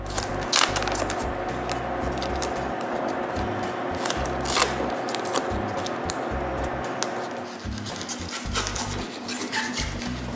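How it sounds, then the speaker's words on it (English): Scissors snip through self-adhesive foam stuck on plywood along the traced base line of a small workshop cyclone, a close run of irregular crisp cuts and crinkly rustles with small bumps of handling. "Then I cut the foam around the hole."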